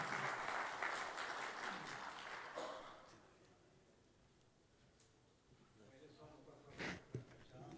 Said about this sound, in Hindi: मैं चाहूँगा कि आप भरपूर तालियों में उनका इस्तकबाल करें